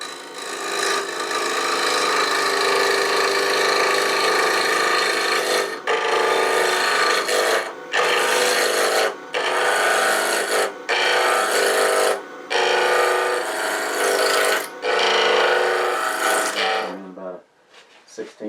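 A 1/2 inch bowl gouge cuts the side grain of a flawed-wood ring bowl spinning on a wood lathe, a loud continuous rough scraping broken by short pauses as the tool lifts, then fading out at the end.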